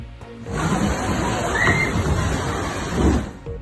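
Seawater surging through the streets of Sığacak after an earthquake, a tsunami flood: continuous rushing, sloshing water with louder swells, and distant voices and hubbub mixed in beneath it.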